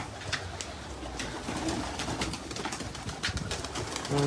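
Pigeons coo softly at a distance over a dull background hum, with a few low murmuring calls scattered across a few seconds.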